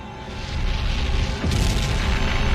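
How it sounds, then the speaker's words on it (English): A nuclear weapon detonates and destroys the Black Star warship in Babylon 5, a deep, sustained rumbling boom that swells and surges again partway through, loud and alone. "order the third nuclear weapon to be detonated, destroying the Black Star."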